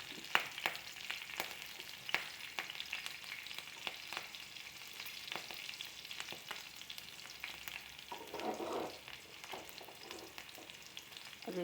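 Green chillies, ginger and urad dal fry in a pan with a soft, steady sizzle. Occasional stirring scrapes come through, with no talking.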